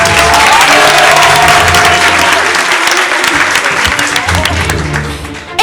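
Audience at a university debating competition breaks into loud, sustained applause, a dense wash of clapping that fills the whole stretch and only begins to thin at the very end.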